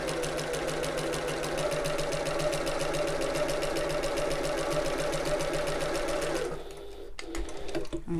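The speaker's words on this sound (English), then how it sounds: "I'm going to sew along the top of this pocket where I folded it, just to give it a nice top stitched edge" A sewing machine top-stitches along the folded edge of a tote bag pocket, running in a steady, fast, close mechanical whir for most of the stretch before stopping abruptly, leaving faint handling noise.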